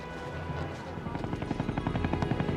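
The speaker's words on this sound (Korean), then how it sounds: "그래서 주목하게 된 것이 헬리콥터다." Korean War era military helicopter, a steady rotor thump that grows into rapid rhythmic chopping over engine roar and a rough archival background.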